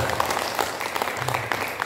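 Audience applause during a product demonstration, a steady wash of clapping from a group at moderate volume, with some faint voices mixed in.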